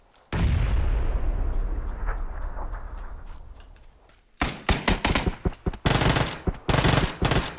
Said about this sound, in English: I'm throwing two grenades on him.